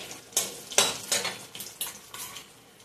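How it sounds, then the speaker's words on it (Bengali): Panch phoron spices stirred and frying in a pan after prawns were fried, with a soft sizzle under repeated scraping strokes of a utensil against the pan, several sharp clinks at an uneven rhythm, fairly quiet. "5 ফোড়ন দিয়ে আমি নাড়াচাড়া করে"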